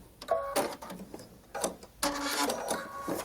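A sewing machine runs in short bursts as it lock stitches the edge of a quilt block, the needle whirring in quick, loud runs separated by brief pauses.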